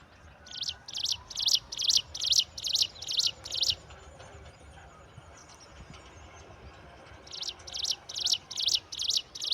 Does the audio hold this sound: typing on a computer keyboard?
no